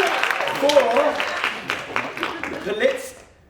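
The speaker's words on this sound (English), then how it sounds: "I am going to ask for another little clap, so hands together" Theatre audience at the Royal Court claps and cheers at a post-show Q&A, a dense wash of hands with excited voices mixed in, fading out near the end.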